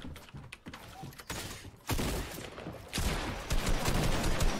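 Video game gunfire with sniper rifles in a squad battle royale: bursts of rapid shots crackle over several seconds, growing denser and louder toward the end, mixed with mechanical clicks.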